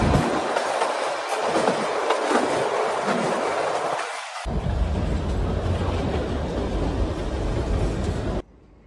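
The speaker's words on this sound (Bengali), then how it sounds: "কালকা স্টেশন থেকে ভারতের সবথেকে পুরনো হেরিটেজ ট্রেন কালকা সিমলা শিবালিক ডিলাক্স এক্সপ্রেস ধরে আমি পৌঁছে যাই সিমলা।" Kalka-Shimla heritage train, the Shivalik Deluxe Express, running on its line, a loud continuous rumble and clatter of wheels on rails that cuts off abruptly at the end.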